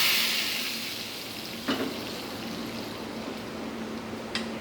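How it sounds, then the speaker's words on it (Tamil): Hot tempering is poured into an avarai (broad bean) kootu. A bright hiss bursts at the start and fades into a soft, steady sizzle, with a couple of faint clinks and no voices. "தாளித்து இதில் ஊற்றணும்."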